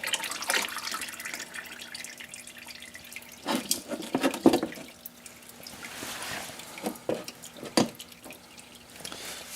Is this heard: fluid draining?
yes